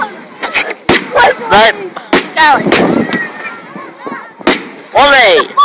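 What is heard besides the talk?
fireworks exploding at a firework show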